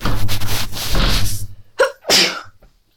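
One loud, close human sneeze bursts out sharply after a stretch of other noise, with a short breathy tail trailing off into silence.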